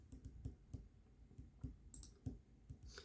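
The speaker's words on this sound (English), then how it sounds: "You just have to hit it on a keyboard somehow." Keys on a computer keyboard tapped in a quick irregular sequence of sharp, close clicks and clacks, with brief pauses between bursts and no talking.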